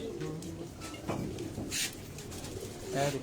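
Pigeons coo softly from a rooftop loft where a female blue pigeon perches among long-bodied fighting birds; low repeated coos sit under faint background noise, with a brief flutter in the middle.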